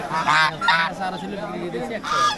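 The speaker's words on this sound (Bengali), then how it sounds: "ও একটা পাতি হাঁস আছে দেখছি।" A domestic duck at a rainy village duck market in Rajshahi gives loud, repeated honking quacks in short bursts, close to the listener.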